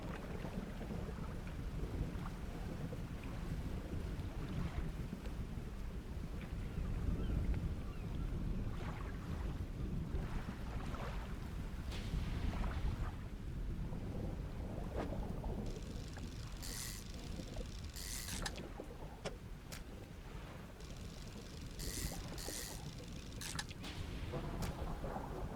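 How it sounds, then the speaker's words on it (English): Stormy sea ambience in the fishing video game Dredge, with a steady roar of wind and rain and rumbling thunder rolling throughout, punctuated by several sharp crackling lightning bursts in the second half. "Oh, is that lightning?"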